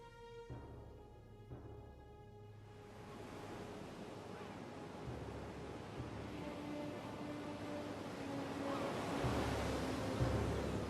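Sea waves and wind at Sunion, Greece, south of Athens, with a rushing wash that swells louder toward the end and faint tonal hum early on.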